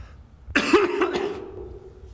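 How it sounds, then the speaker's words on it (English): One harsh, rough cough close to the mic, a sudden loud burst that breaks into a short ragged fall-off, with a quieter raspy tail after it. "this is a bad cough."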